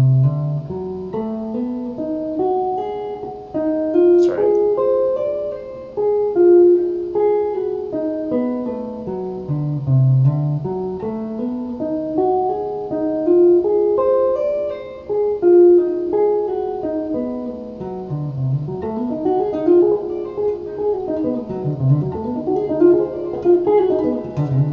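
Electric guitar playing a lick slowly, clear plucked notes in flowing descending and ascending patterns, evenly paced and prominent with no talking over it.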